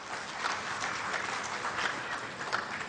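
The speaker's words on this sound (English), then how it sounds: "Can we have a huge round of applause for one and all here and for yourself?" An audience at an alternative investments event claps together in steady, fairly quiet applause that holds the same level throughout, with no voices over it.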